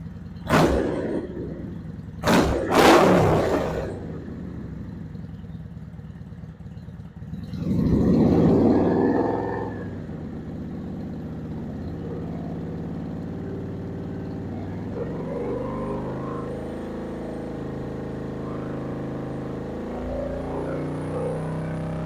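A Kawasaki Vulcan 750 motorcycle engine runs during a charging-system test: a few sharp bursts early, then a single throttle blip that rises and falls before settling into a steady, even idle, with no talking.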